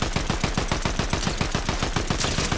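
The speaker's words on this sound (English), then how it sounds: "God dang, I'm getting shot at from in front." Rapid automatic gunfire from the video game Fortnite, a loud, dense stream of evenly spaced shots with no pauses.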